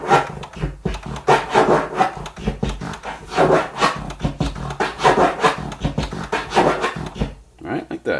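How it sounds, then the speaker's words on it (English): Turntable scratching in M-Flare patterns built from 2-click orbits, a fast series of rubbing, raspy record strokes with crossfader clicks chopping each push and pull into short bursts, loud and close. "on the way forward it's a half of a 2-click orbit, and on the way back it's a reversed half of a 2-click orbit."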